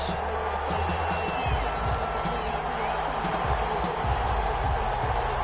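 Stadium crowd noise in the Madden NFL video game ahead of a Cleveland Browns versus Detroit Lions matchup, a dense continuous roar carrying scattered thuds beneath a commentator's voice.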